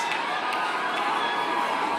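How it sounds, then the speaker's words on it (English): A large crowd of Black Friday shoppers shouts and screams continuously as they rush into a store, a dense, loud wall of overlapping voices with no pauses. "the mob's screams became deafening as they rushed through the entrance"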